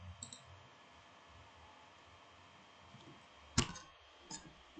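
Two or three sharp, isolated mouse clicks while an app project is set up on a computer, quiet and close, with faint room hum and low background murmur between them.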